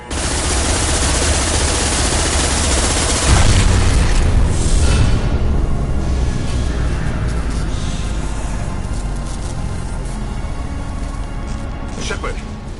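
Heavy gunfire and booming blasts from a Mass Effect 2 firefight, a dense continuous roar of shots and explosions that stays loud throughout, with a voice talking over it.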